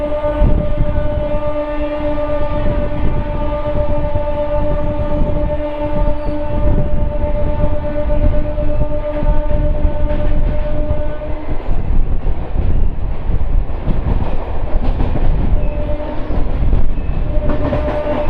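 Heard from inside a MEMU Express coach running through Gotlam station without stopping: a loud, steady rumble with a droning motor hum and rhythmic wheel clatter that roughens toward the end.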